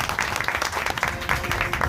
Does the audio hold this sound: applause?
yes